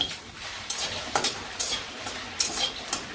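Spices sizzle in a pan as they fry, a soft close crackle broken by several quick bursts of louder hissing, roughly every half second, as they are stirred.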